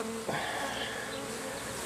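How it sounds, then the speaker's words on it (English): Bees buzzing around a wooden box as they are hived, a steady, close hum with one louder insect droning past near the microphone partway through, with no talk over it. "Bee landed on me there on the camera."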